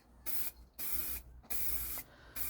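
Black paint sprayed in three long bursts onto an old, never-painted workshop table in a garage, each hissing spray loud and close, separated by short pauses.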